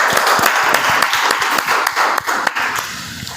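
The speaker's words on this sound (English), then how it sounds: "may I have a huge round of applause for everybody sitting online and offline." A crowd applauds loudly, dense clapping that carries on steadily before starting to thin out near the end.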